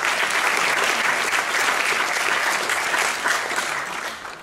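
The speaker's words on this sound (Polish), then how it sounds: "prosimy o brawa" Theatre audience at the opening ceremony of the 17th Shakespeare Festival applauds the festival sponsors, with full, sustained clapping from a large hall that stays strong and then tapers off slightly toward the end.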